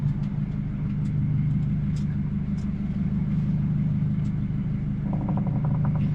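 The motor of a 40 ft sailboat runs steadily in forward gear while anchoring off Mexico, a continuous low rumble heard close and without pause.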